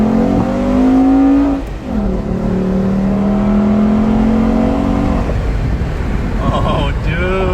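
An $800 Volvo V70 pulls away on its first drive, the engine note steady and loud with a rising rev near the start, wind rumble over the microphone throughout and a voice speaking over it.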